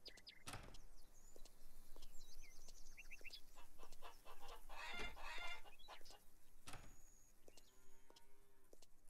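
Chickens clucking in the farming game Farmers Dynasty, with repeated short clucks and chirpy calls over steady ambient farmyard noise, plus a few sharp knocks.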